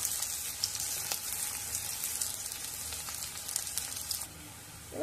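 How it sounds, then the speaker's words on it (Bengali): Onions frying in hot oil in an iron wok, a dense crackling sizzle heard up close and steady, dropping a little near the end. "এবার তেল গরম হয়ে গেলে পেঁয়াজটা দিয়ে পেঁয়াজের একটা বেরেস্তা ভেজে নেব"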